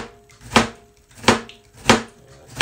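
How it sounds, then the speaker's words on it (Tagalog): Knife slicing vegetables thinly for a salad on a cutting board, four sharp, evenly spaced cuts landing roughly every two-thirds of a second, close and distinct against a quiet background. "Hiwain lang natin, ha?"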